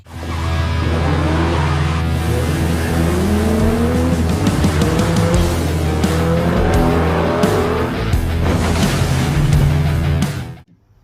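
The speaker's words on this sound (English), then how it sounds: "This here is my 1978 Chevrolet Camaro." A 1978 Chevrolet Camaro roars loudly and steadily for about ten seconds, its deep engine rumble mixed with squealing tires and rising revs before cutting off abruptly.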